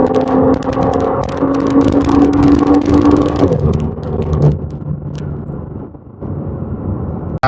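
C32 AMG and BMW 340i accelerating hard side by side in a high-gear roll race on a wet road, a loud sustained engine drone that climbs in pitch, then fades as the cars pull away.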